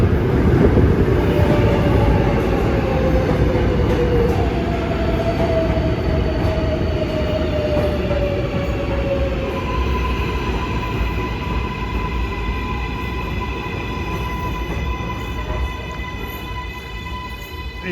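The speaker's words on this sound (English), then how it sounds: "And here comes a train arriving from Flushing to end here." An NYC number 7 subway train of Kawasaki-built cars pulls into a terminal station, a steady rumbling roar with long, drawn-out wheel squeals rising and layering as it slows.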